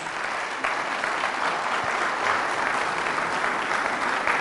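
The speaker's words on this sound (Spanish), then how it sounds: "Fuertes aplausos a la palabra de Dios." A church congregation gives loud, sustained applause during a Catholic service, a thick continuous roar of many hands clapping together.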